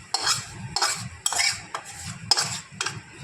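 Ghee mixture poured into a pot of khichuri and stirred, giving repeated metallic scrapes and clinks of a spoon against the pot in short bursts, fairly close, with no talk.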